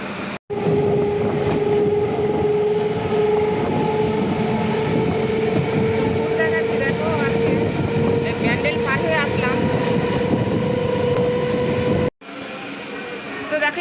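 Inside a moving passenger train bound for Bardhaman station, a loud, continuous rumble rolls on with a steady tonal hum and faint rattles, cutting off abruptly near the end.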